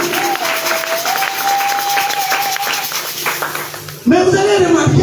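A church congregation applauds for Jesus at a sermon, sustained clapping running throughout while a voice carries a long sung or called note above it, then speech cuts in loudly.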